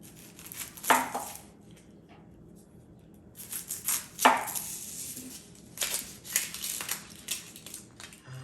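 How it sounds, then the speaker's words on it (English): A kitchen knife chopping two onions on a board, with two sharp isolated cuts early on followed by a looser run of quicker chops, close and fairly quiet, no talking. "now I'm going to cut up 2 onions"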